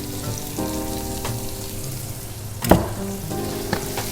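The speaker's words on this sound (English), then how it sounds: "I'm going to add this marinade." Pork loin frying with a garlic, thyme and rosemary marinade hisses and sizzles steadily in a pan, with a sharp clatter and a louder burst of sizzle partway through and no talk.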